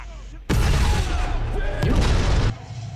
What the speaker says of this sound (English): you were like 3 feet away from that explosion